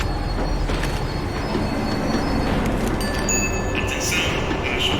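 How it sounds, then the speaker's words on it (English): A tram in Max Payne 3 rumbles along the rails as it slows, with steady low clattering and high metallic wheel squeals rising near the end, loud and close. "The tram was slowing down, and I'd only just gotten on board."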